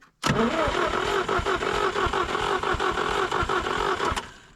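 A GAZ-69 engine cranks repeatedly but fails to start, a loud, close starter churn with rhythmic pulses that cuts off after about four seconds, with no voices.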